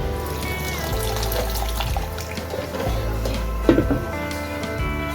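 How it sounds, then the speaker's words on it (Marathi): Half a cup of water is poured into upma cooking in a pan, a steady running trickle with a brief splash near the end, close by and unaccompanied by talk. "अर्धी वाटी पाणी सुद्धा टाकलं"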